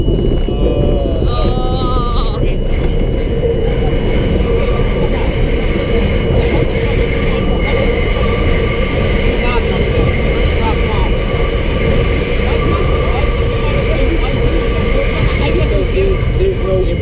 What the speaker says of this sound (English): we actually talk about the subway cars that we're in